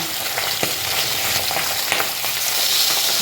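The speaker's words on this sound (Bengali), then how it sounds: "মাছের ঝোলের জন্য তেল দিয়ে দিচ্ছি। যা ফুটাফুটি করছে বন্ধুরা" Hot oil crackles and spatters loudly and without pause in a pan where fish is frying for a fish curry, with a dense hiss and frequent sharp pops close by and no voices.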